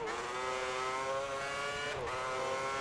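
F1 race car from F1 2010 at full throttle, a loud, steady high-pitched engine wail held close with a brief dip in pitch around a gear change before it climbs again.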